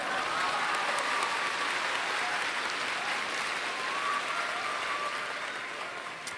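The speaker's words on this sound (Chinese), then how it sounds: "需要一些掌声。" An audience at an arts and culture broadcasting award ceremony breaks into dense, steady applause that holds loud and even for several seconds before easing slightly at the end, with no voices standing out.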